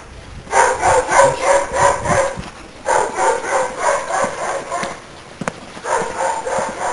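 A dog barks repeatedly on a street in Japan, in rhythmic bursts of quick yaps separated by brief gaps, moderately loud with a constant high-pitched hum beneath.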